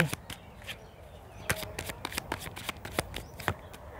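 Tarot cards shuffled by hand for a reading, a run of quick, close riffling and slapping bursts in an uneven rhythm, alone without speech.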